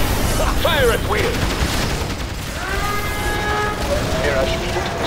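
Units open fire in the real-time strategy game Rise of the Reds, a dense burst of gunfire and booms at the start, then mechanical whirs and game unit voice lines over a continuous busy battle backdrop.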